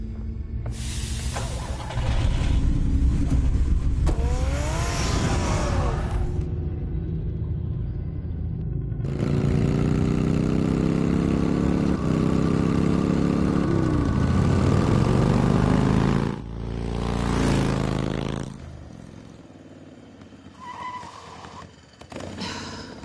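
A car engine in Batman: The Telltale Series rumbles loud and close, revving and roaring in surges with shifting pitch before cutting off near the end.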